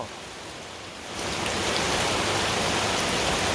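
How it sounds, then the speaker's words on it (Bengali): Heavy rain pours steadily in Bangladesh, starting lighter and swelling after about a second into a loud, dense, continuous hiss that holds with no voices. "বৃষ্টি হচ্ছে বাংলাদেশে"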